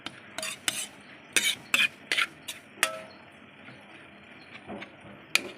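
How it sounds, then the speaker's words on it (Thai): A spatula works minced pork around a hot pan, with sharp metallic clacks and scrapes in quick irregular bursts, loud and close at first, then thinning into a few scattered knocks over a low background. "ตอนนี้เราก็เอาหมูสับมาคั่วกันนะครับ"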